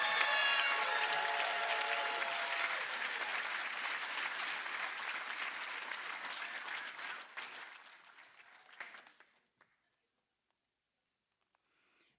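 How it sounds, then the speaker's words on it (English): A DeKalb County Fire Rescue graduation crowd gives a long round of applause for Class 117, steady and dense before thinning out and stopping, leaving near silence. "One more round of applause for class 117."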